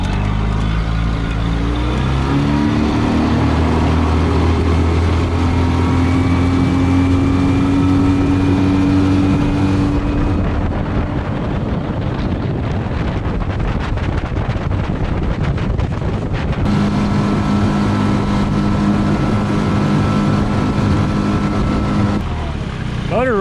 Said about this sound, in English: this motor runs so good